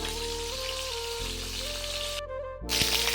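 Chicken pieces frying in hot oil for a chicken roast, a constant crackling sizzle close by that pauses briefly before resuming louder, over a low steady hum.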